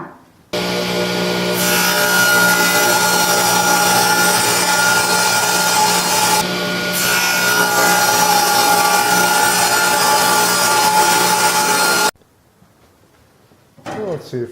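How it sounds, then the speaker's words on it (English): A saw cuts through maple wood, ripping stock into thin runners for a table saw sled; a loud, steady whining cut runs for about eleven seconds with a brief dip midway, then stops abruptly into near silence. "I'm going to have to cut 3/4 inch pieces out of this and then taper them"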